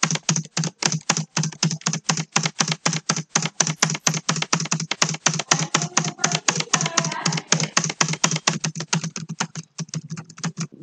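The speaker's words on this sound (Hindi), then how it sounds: "आप चाहें तो सही से टाइप कर सकते हैं।" Fast, steady typing on a computer keyboard during a typing test: dense rapid key clicks throughout at an even pace, close and clear, with no voices.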